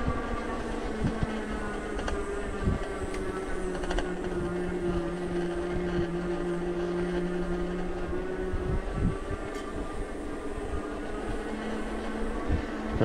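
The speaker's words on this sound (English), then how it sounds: "I'm going to let you listen to the motor to try to give you a sense of what it sounds and feels like" Steady hum and whine of a 500-watt rear hub motor on a Euphree City Robin X+ e-bike climbing a steep hill, a continuous moderate drone with faint road and wind noise and no talking.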